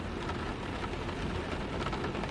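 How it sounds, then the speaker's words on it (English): Steady rain falls on a night, an even, continuous hiss of drops with no pauses, moderate in level and alone. "the sound of rain to fill the empty spaces"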